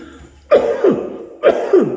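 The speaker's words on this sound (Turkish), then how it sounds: "bayağı bir Öksürük geçmiyor benden" A man gives two harsh, close chesty coughs, each a sharp burst followed by a second rasping push, roughly a second apart and loud against a quiet background.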